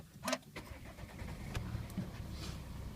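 A Volvo S60 D5 R-Design diesel engine cranks briefly and catches, settling into a low, steady idle rumble with a few faint clicks over it.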